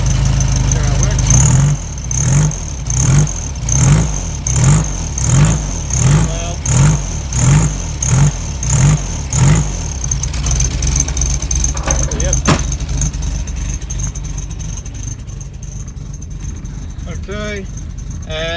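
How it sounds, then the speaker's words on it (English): A rear-mounted engine in a 1969 Volkswagen Beetle chugs close by in a steady, pulsing rhythm for about ten seconds, then settles into a quieter, rougher run with scattered clicks. "now this is how a rear engine Volkswagen Beetle engine works"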